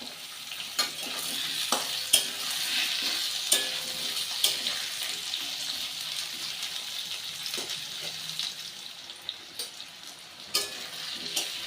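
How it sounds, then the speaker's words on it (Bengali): Steady sizzling of potatoes and onions frying in a pan, with occasional sharp clinks and scrapes of stirring throughout. "এবার আমি কেটে রাখা আলুগুলো দিয়ে দেবো আলু আর পেঁয়াজ একসঙ্গে ভেজে নেবো"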